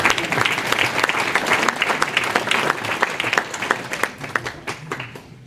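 Audience applause at a municipal New Year ceremony in Nilvange, dense steady clapping from a seated crowd that thins and tapers toward the end.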